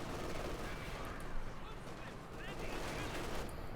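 Light machine guns rattle in Company of Heroes 2 amid a dense, continuous battle din of overlapping gunfire and explosions, steady and loud throughout.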